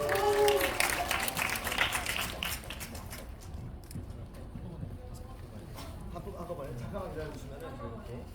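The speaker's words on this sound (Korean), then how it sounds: "박수" A cinema audience at a film preview event breaks into brief applause mixed with chatter and laughter, fading after a few seconds into murmuring voices.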